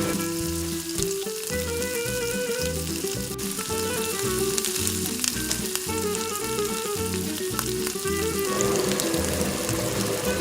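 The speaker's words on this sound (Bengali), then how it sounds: "গরম তেলে সবগুলো উল্টো পাল্টে করে ভেজে নেব।" Rice chops (bhater chop) frying in hot oil in a kadai, a steady close crackling sizzle throughout with no talking.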